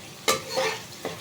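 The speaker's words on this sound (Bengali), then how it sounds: "মশলাটা ভালো করে কষিয়ে নিচ্ছি। বেশ ভালো করে কষিয়ে নেব লাল লাল করে।" Spice paste being stirred and fried in oil for a green plantain curry, with a few quick scraping stirs against the pan over a soft sizzle, close and fairly quiet.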